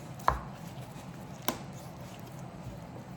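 A Victorinox 17cm boning knife trims the belly off raw lamb ribs, giving two sharp, close cutting strikes about a second apart over a quiet background.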